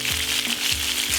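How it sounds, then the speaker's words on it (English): Chicken deep frying in hot oil at 190 degrees Celsius, a steady dense sizzle and crackle throughout, close and continuous with no talking. "turn the heat up to 190 degrees Celsius, 375 degrees Fahrenheit, and fry for 1 minute on each side"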